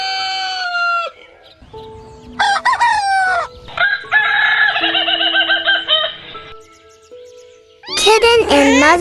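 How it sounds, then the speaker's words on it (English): A rooster crows several times, loud and close, the calls broken by short pauses and mixed with other farmyard fowl calls; the last crow is sharp and near. "Rooster."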